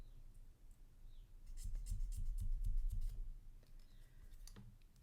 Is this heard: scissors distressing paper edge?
yes